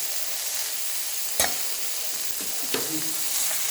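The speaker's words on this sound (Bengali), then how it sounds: "এই যে বাঁধাকপিটা দিয়ে দিচ্ছি।" Salted, turmeric-coated cabbage, washed and squeezed, drops into a hot pan for a vegetarian subzi, giving a steady sizzle with two sharp clatters from the pan or spoon partway through.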